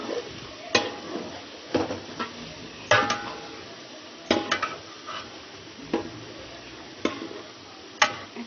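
Meat goes into a pot of cooked, fried spices, bringing irregular clanks and taps of a utensil against the pot over a faint sizzle, close by.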